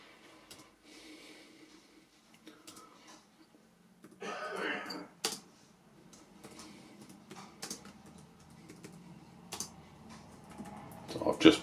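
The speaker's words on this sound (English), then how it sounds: "and then you simply type in what you want" Light tapping on a computer keyboard while typing a message, with scattered soft keystrokes and a few louder clacks, fairly quiet and close.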